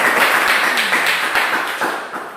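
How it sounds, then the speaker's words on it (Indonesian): A classroom of students claps together, a steady run of quick, brisk hand claps with sharp individual strikes, moderately loud and near, with no talk over it. "sudah kita tepuk tangan teman-teman"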